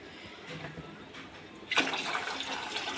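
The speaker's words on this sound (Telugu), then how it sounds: "రైస్కి సరిపడా వాటర్ వేసేసినట్టే." Water is poured from a jug into a pot for biryani rice. It starts faint and bursts into a steady rushing, splashing pour partway through, quiet and close.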